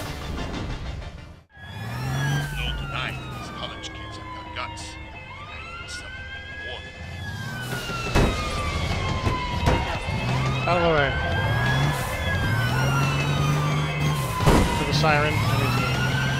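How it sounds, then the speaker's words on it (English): Police siren wails and yelps in the game APB: Reloaded, rising and falling through the whole stretch alongside engine and traffic noise, fairly loud and continuous. "Siren."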